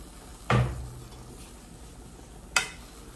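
Washed cassava leaves drop into a pot of boiling water with a sharp splash and hiss, and a second, shorter splash follows about two seconds later.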